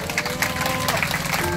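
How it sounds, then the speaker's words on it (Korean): Brief burst of dense clapping from a church prayer-meeting audience welcoming a speaker, loud and continuous, with a voice and some murmuring under it. "부기총 임원대로 오셨는데 한번 박수로 환영합니다."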